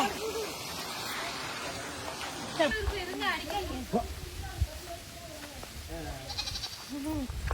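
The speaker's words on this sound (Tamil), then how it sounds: "ஆட்டை நல்லா பிடிச்சிக்கோ" A goat bleats repeatedly in short, wavering cries while being caught, with people talking loudly around it.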